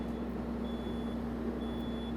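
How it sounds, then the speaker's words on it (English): A household smoke alarm sounds in a smoke-filling home during a fire and sprinkler demonstration. It is a faint, high, steady electronic tone that cuts in and out over a low, constant hum. "Now as you can see, the smoke alarm has already activated."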